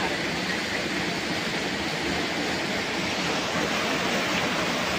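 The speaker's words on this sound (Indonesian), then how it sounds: "Kita lihat ke arah sana ada air terjun terjun ya, air terjun." The Kuku Belantak waterfall in Kendawangan, Ketapang, West Kalimantan, roars as a dense, unbroken rush of falling water that stays loud and even throughout.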